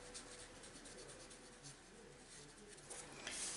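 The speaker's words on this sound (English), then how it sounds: "I'm just going to grab my colour lifter pen and just do a little scribble down there" A colour lifter pen scribbling on paper gives a quiet, steady scratchy rubbing, close and continuous with faint background hiss and no talking.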